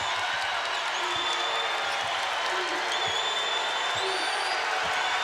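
A packed arena crowd at a Gonzaga versus Tennessee NCAA Sweet Sixteen women's basketball game in Spokane stands and roars in a loud, unbroken wall of cheering, with a commentator's voice faintly over it.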